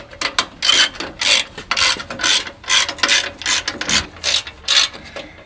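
A ratchet wrench clicks in quick rhythmic bursts, close and fairly loud, as bolts are snugged down on frame support brackets of a 2016-or-later Toyota Tacoma, with short pauses between strokes.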